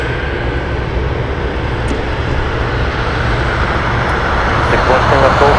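An airplane takes off from runway 33, a loud, steady broadband engine roar that swells slightly toward the end, with a muffled voice running faintly underneath.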